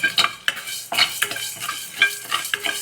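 Rice and spices dry roasting in a pan for a pepper and fenugreek kuzhambu, stirred with a utensil that scrapes the metal in about six quick, rhythmic strokes, close and fairly loud over a light crackle.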